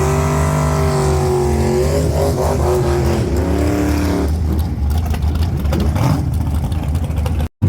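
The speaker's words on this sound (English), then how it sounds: "Racing my buddy TJ in his blue truck" A GT45 turbo drag car roars loud and close through its pass in a Double Header Modified class race, its engine note climbing through gears before dropping into a harsher, rougher rush of sound.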